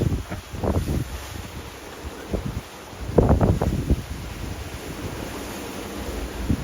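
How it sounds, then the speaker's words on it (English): Big, rough seas and gusting wind around a small sailboat on a solo open-ocean passage: waves surge and crash in heavy bursts, separated by quieter stretches of steady wind hiss and water wash. "we are swinging about a lot in pretty big seas. These seas have really built up"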